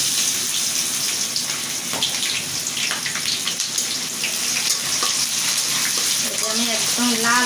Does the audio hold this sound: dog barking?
no